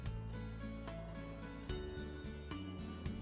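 Sewing machine stitching a patchwork tote bag, a steady rapid mechanical whir with regular rhythmic clicks and ticks, close and continuous, with no talk.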